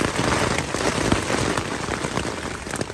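Marble-sized hail mixed with rain pelts down hard and dense, a loud continuous patter studded with sharper individual impacts, with no voices.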